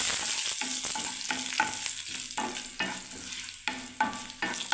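Dried chillies and curry leaves sizzle in hot oil in a pan while a utensil scrapes and stirs them in repeated strokes, close and steady, with no talking.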